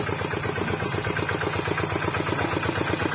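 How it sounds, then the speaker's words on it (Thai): The engine of a Thai walk-behind tractor runs steadily at idle, giving a close, even, rapidly pulsing mechanical chug that keeps going with no pause. "คันนี้เป็น รถไถนาเดินตามนะครับ"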